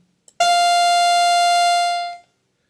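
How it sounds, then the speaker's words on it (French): A bright, buzzy sawtooth wave from a 1980s analog synthesizer holds one steady pitch for about two seconds, then cuts off cleanly, loud and alone. "l'onde en dents de scie"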